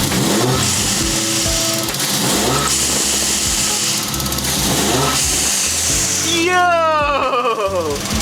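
A 1JZ-swapped Nissan 240SX engine revs loud and close with blow-off valve hiss. Steady engine roar runs throughout, and people talk over it near the end.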